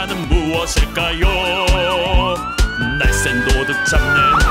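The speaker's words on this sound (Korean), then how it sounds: "날쌘 도둑 잡는 멋진 경찰차" A cartoon police car siren within a children's song, a wailing tone that rises and sweeps over bouncy music and sung vocals, loud and up front.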